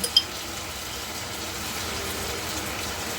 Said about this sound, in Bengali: এই দিয়ে দিলাম ঝোলের জন্য জল